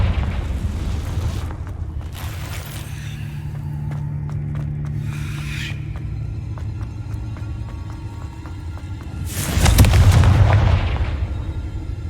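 Confringo fire spell blasts in the Hogwarts Legacy video game, a low rumbling boom with a sharp loud burst near the end over a steady game soundscape, no talking.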